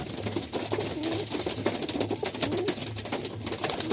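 Andhra pigeons cooing in a loft, with low repeated coos under a steady background of bird activity and rustling, fairly close and continuous.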